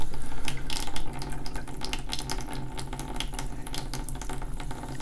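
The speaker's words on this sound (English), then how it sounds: "So you're going to have that bit of water that's still in the lines just push itself out." A faucet runs steadily into an RV sink as water lines are purged, water splashing and hissing continuously, loud and close, with a brief surge at the start.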